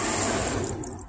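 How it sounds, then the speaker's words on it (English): Water poured into a fish tank set up with rocks and plants, a short close splash and rush that fades within about a second. "And then I'm gonna pour water in right now."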